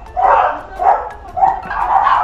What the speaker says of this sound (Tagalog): Maingi ng mga aso.